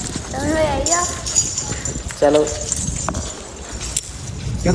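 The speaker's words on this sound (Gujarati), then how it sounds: "ફાઇનલી આપણે ઘોડા પર બેસી ગયા છે" A horse ride with the hooves clip-clopping in a steady rhythm, close by, while people talk over it and the animal's footfalls carry on underneath.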